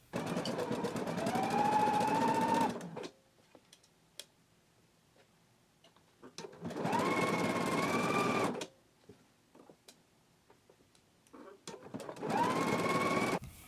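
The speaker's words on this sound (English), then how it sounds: "I'm going to use a zigzag stitch, and I'm going to go ahead and stitch down the side seam and the underarm seam in one continuous stitch." A sewing machine zigzag-stitches the side and underarm seam of a knit dress in three steady, close bursts of whirring stitching, separated by quiet pauses with faint clicks and handling.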